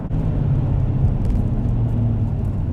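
A 2019 Dodge Challenger R/T Shaker with a six-speed manual, heard from the cabin while driving, gives off a steady low engine rumble and road drone with no gear changes, loud and continuous.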